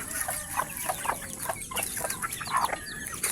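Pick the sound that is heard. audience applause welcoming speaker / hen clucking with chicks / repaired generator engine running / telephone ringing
hen clucking with chicks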